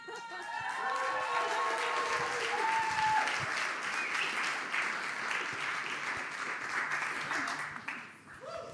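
An audience at the TechChill Riga startup conference applauds warmly, dense sustained clapping from a large crowd with scattered cheers and voices mixed in, tapering off near the end.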